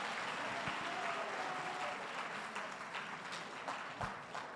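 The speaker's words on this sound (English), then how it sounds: "A round of applause." Applause from an audience at a formal gathering rises as a soft, distant wash of clapping that swells and fades, with a few sharper individual claps and faint voices under it.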